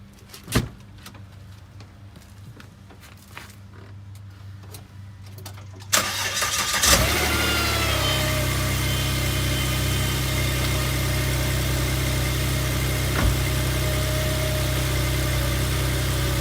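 A Volvo XC90 engine, after a flex pipe exhaust repair, cranks and catches after a few quiet seconds, then settles into a steady, close idle hum that continues to the end.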